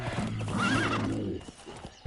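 A horse whinnies loudly with a rising and falling neigh in the video game Conan Exiles: Age of Sorcery, followed by a few hoof clops and a short thump at the end.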